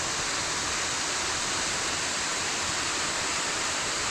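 Spoon Creek Falls in Grays Harbor County, Washington State, a waterfall roaring continuously as a loud, broad, steady rush of falling water with no other sounds.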